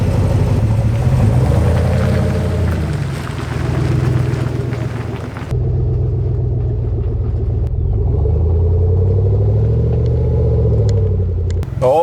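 A Chevrolet Silverado ZR2 with a 6.2 V8 and its main muffler deleted drives along with a loud, deep exhaust rumble that rises and falls with the engine revs. It stays close and steady the whole time.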